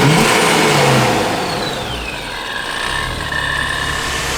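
Supercharged ProCharged 2023 Jeep Wrangler engine revving up and settling into a steady loud rumble, heard close with no talk.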